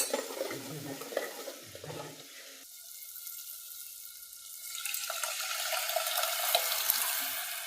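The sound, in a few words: spices tempering (vaghar) sizzling in hot oil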